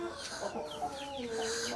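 Chickens of several different breeds cluck and call together in a coop on a chicken and goat farm, a steady close chorus of overlapping clucks with no talk.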